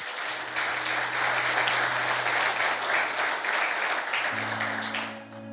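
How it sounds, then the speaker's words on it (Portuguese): A large church congregation applauds continuously, dense clapping holding steady before tapering off at the end, with a low sustained tone underneath. "Aplauda o Senhor Jesus."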